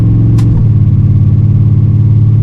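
A Buick Skylark with a 455 engine and a new torque converter idles at low RPM, a steady close rumble that drops and settles after a brief rise at the start.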